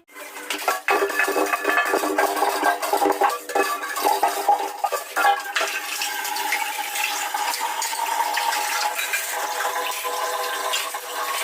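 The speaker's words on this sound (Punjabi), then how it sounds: "ਹੁਣ ਕਰਦੇ ਆ ਭਾਂਡੇ ਮਾਂਜੀਏ ਸਾਫ਼ ਸਫਾਈ" Dishes being scrubbed and rinsed with running water in a Punjabi home kitchen, a steady close wash of splashing and clinking that carries on for the whole stretch with no voices.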